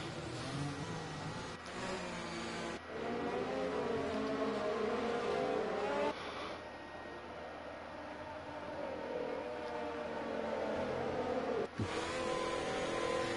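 F1 race cars circle the Abu Dhabi track in a racing video game, their engines a faint, steady drone with gently shifting pitch throughout.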